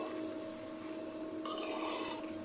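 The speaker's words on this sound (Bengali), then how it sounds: "মাংসটাকে এখন ভালো করে মশলার সাথে একদম মাখিয়ে নেব" Chicken cooked with helam seeds is mixed with spices in a pot, producing a continuous rasping scrape of the utensil against the pot that grows louder and brighter toward the end, with no talking.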